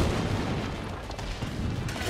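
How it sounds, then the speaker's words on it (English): Fire ballistas firing in a fantasy battle game, a steady rumble of dull booms and bursts blending into continuous loud battlefield noise. "Fire ballistas shooting into the heat."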